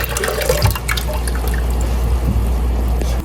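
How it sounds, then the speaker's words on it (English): Blackberry juice poured into a cooking pot for jelly, a steady liquid trickle and splash heard close and continuous without speech. "So we're going to add our juice to the pot."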